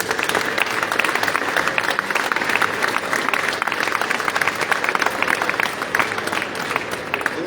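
Audience applause at an award ceremony for a car tuning contest in Italy: steady, dense clapping from a sizeable crowd, continuous and fairly loud throughout, with no voices on top.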